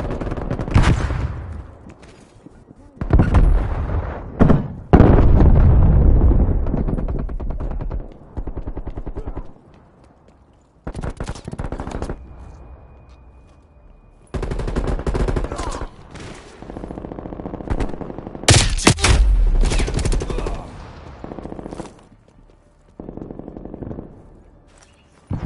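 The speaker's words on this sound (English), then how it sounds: "Got a submachine gun here." Submachine gun fire in Call of Duty: Black Ops Cold War multiplayer on PS4, loud close bursts of rapid automatic shots separated by short pauses, with game voices and noise between the volleys.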